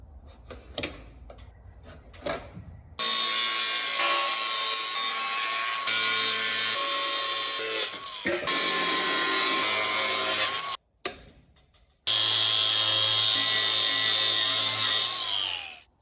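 A drop saw cuts stock for a welded saw bench. A few hard taps come first, then long loud whining cuts with a brief stop before the blade runs again and spins down. No voices.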